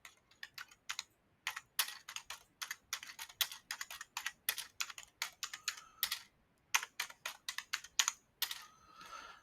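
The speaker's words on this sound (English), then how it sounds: "I'm going to type in there now." Keys clatter on a computer keyboard in quick irregular bursts with short pauses, close and fairly quiet, with no talk.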